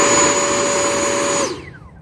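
An E-flite Blue Angel RC jet at full throttle makes a loud, steady high-pitched turbine whine that holds and then spools down and fades near the end.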